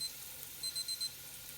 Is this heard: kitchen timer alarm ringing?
yes